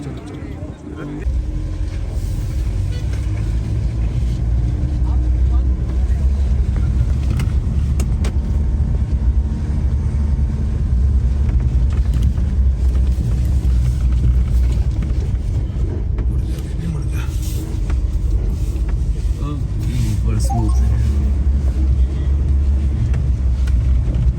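A camper van climbs a snowy, icy mountain road at Hamta Pass near Manali, its loud, steady engine rumble close and continuous throughout, with people talking over it.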